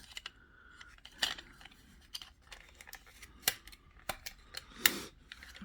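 Crinkly plastic wrapping is pulled and torn off a metal shower caddy, making a series of short, sharp crackles and snips at irregular intervals, close by in a quiet room.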